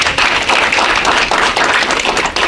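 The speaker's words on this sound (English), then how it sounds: "Let's give them another hand of applause." Audience at a diaspora community association address clapping in a dense, continuous burst, loud and close, with individual claps audible and no speech.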